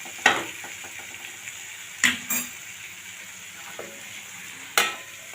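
Okra fries quietly in a pan, a soft, steady sizzle running underneath. A few sharp scrapes and clinks from stirring break through it, spaced a couple of seconds apart.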